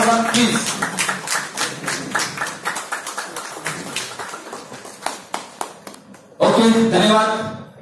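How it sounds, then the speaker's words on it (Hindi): Hand clapping greets guests at a biofuel (Bio-CNG) business event in Ahmedabad, rhythmic and fairly close at first, then a louder burst of applause swells near the end, with speech mixed in. "जोरदार तालियों से सामने का स्वागत करेंगे सर।"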